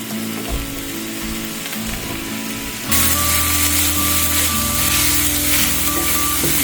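Chopped eggplant, onion and sliced mushrooms hit a hot pot and break into loud, dense sizzling that jumps up partway through and keeps crackling steadily, close by with a low hum beneath and no talk.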